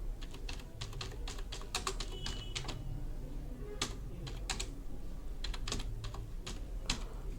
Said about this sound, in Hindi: इस तरह से हम टाइप करते हैं